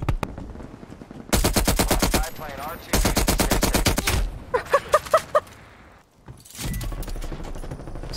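Video game shooter gunfire, long loud bursts of close automatic fire with short gaps, a few single reports, and someone talking over parts of it.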